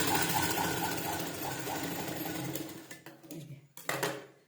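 Close-up whirr of a sewing machine stitching blouse lining, running steadily for a few seconds, then breaking into short uneven bursts before stopping.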